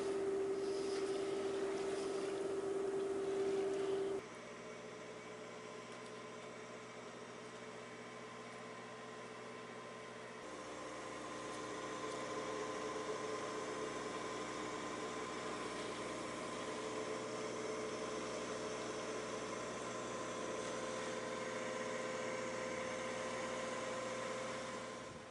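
A sailboat's engine runs steadily at sea, producing a continuous droning hum with a constant tonal whine that shifts slightly partway through, moderately loud and unbroken with no voices.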